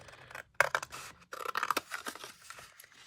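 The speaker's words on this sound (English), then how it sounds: "So maybe I will try to cut along the fold." Scissors snip and crunch along the fold of a cardboard box, a few sharp close cuts in two short bursts separated by a brief pause.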